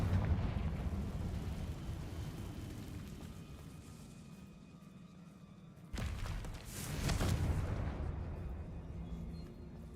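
A Confringo blasting spell in Hogwarts Legacy detonates against a barrier, a sudden booming burst that rises into a roaring, rumbling blast over low ambient game rumble.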